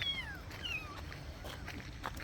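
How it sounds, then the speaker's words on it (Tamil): Two cats meowing close by, a couple of short, high, descending meows in quick succession over a quiet background. "அழகான பூனைகள் ரெண்டு"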